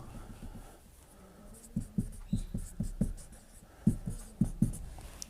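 Chalk or marker writing out the name of an alcohol such as ethanol on a board during a chemistry lesson, a series of sharp scratchy taps and strokes, near and fairly clear, with no talking.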